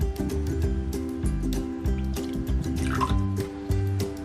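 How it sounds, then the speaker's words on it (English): Water splashing and trickling into a bowl of vinegar for an Egyptian kushari sauce, with close liquid drips and gurgles over steady background music. "You're going to add the same part water."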